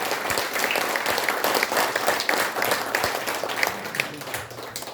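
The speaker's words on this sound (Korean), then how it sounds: "큰 박수 부탁드립니다" A crowd applauds steadily, many hands clapping in a dense, continuous patter that holds at full strength without pause.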